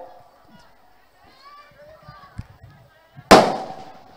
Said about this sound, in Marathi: फटाके जवळ लावू नका